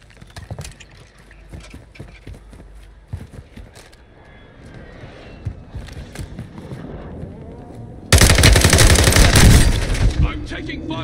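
Loud bursts of video game gunfire in a multiplayer shooter match swell into a heavy, sustained barrage near the end, while players talk and call out over scattered shots.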